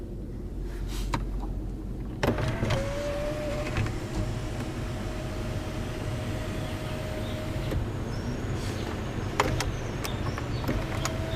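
Electric sunroof motor on a 2021 Lexus GX460 running as the roof opens, a thin, steady whine lasting several seconds inside the cabin, under faint background hum and a few small clicks.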